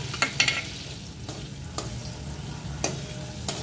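Green chillies with crushed garlic sautéing in a pan for sprouted-bean pav bhaji, a low steady sizzle with a few sharp stirring clicks and scrapes scattered through, close and moderately quiet.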